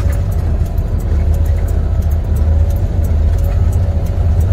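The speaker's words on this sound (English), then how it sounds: "I'm pulling out of the parking spot so I can exit the terminal." A semi truck hauling a trailer pulls out of a parking spot at a terminal, producing a steady, loud low engine rumble that holds without breaks for several seconds.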